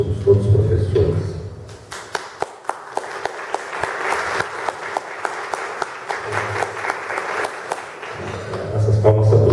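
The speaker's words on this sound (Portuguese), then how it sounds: "Essas palmas são para os nossos colegas aqui que receberam bombas" Audience applause at a Brazilian academic history lecture, honoring fellow teachers who received grants; a dense round of clapping swells in the middle stretch with some sharp individual claps standing out, while someone speaks over it at the start and end.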